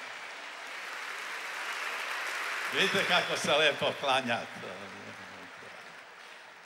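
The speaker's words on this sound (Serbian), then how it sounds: "I njemu dajte aplauz." A concert audience at Sava Centar applauds in a broad, steady wash of clapping that swells, then someone speaks loudly over the fading applause.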